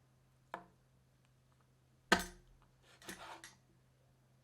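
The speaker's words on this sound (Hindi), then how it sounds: "फिर इसे टुकड़ों में काट लेते हैं" Pieces of roasted guinea fowl are chopped with a knife, three sharp, separate strikes with quiet gaps between them, the last one slightly drawn out.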